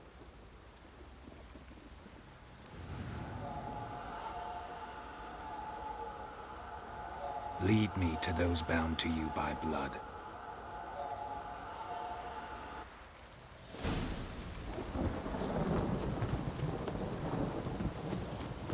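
In The Witcher 3 video game, steady rain hisses throughout while a low rumble of thunder rolls in, with a spoken voice and a brief rhythmic clatter in the middle.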